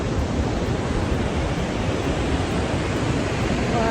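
Gullfoss waterfall in Iceland sends up a dense, constant roar of crashing, splashing water, loud and unbroken, with wind buffeting the microphone.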